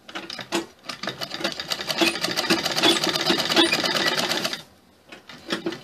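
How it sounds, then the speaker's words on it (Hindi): A sewing machine runs up close, stitching fabric and piping for a Chinese-collar sherwani suit with puff sleeves, a dense rattling whir lasting about four seconds before it halts, followed by a few soft taps. "अब हम इसको सिलते हुए लाएंगे ताकि वो पीछे से बैठ जाए, और ये कपड़ा भी हम उसके साथ सिल दें।"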